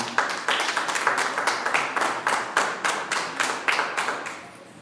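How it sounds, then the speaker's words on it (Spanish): A church congregation claps in a brisk, steady rhythm, many hands together close by, the beat holding evenly for several seconds before easing off at the end. "Den un aplauso al Señor."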